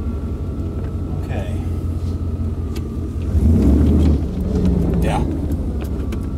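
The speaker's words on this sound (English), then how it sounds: "So now I want to hit the gas and see if I spin out." A 1995 Chevy K1500 pickup in 4x4 on a gravel driveway rumbles steadily, then surges louder as it accelerates before settling back, with someone speaking briefly nearby.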